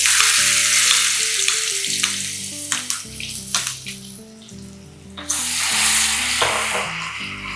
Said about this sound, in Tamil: இது வந்து ஒரே 1 நிமிஷம் வதக்கிக்கலாம்